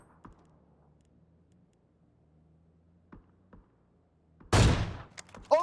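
Sniper rifle fire in a PUBG Africa esports match: quiet ambient ticks give way to one loud, sharp crack with a brief tail, followed shortly by another short report.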